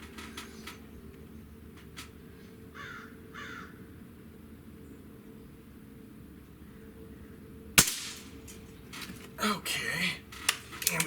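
A single sharp crack from a Gamo Magnum .22 caliber breakbarrel air rifle firing stands out abruptly after a quiet stretch, followed by handling clatter, with faint crow caws in the background earlier.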